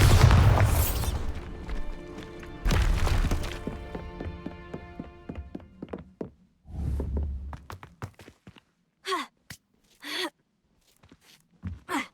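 Bombarda blast spell in the Hogwarts Legacy video game: loud bursting booms with crackling debris and rumbling tails, followed by scattered short impact sounds and game effects.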